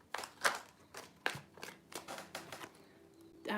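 A deck of tarot cards gets a short hand shuffle, a handful of separate papery flicks and taps up close, ending in a faint rising rustle.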